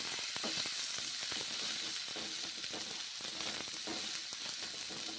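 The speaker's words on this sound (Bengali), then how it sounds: "কষে নিচ্ছি মশলা এবং ফুলকপি।" Cauliflower with spices and tomato fries in a wok, a steady sizzle broken by frequent short clacks and scrapes of a spoon stirring the mixture.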